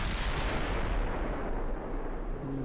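Heavy 14-inch naval guns fire in a warship video game, a loud deep booming roar that fills the whole moment with rumbling blast noise and no voices.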